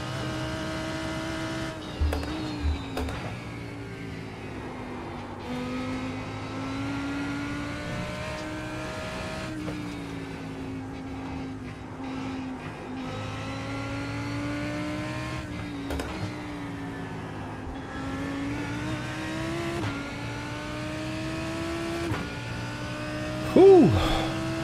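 BMW race car engines roar in iRacing, a steady high-revving drone with shifting pitch as the cars accelerate and brake through corners, loud and continuous, with a sharp spike near the end.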